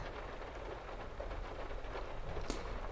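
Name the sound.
rain falling on car during thunderstorm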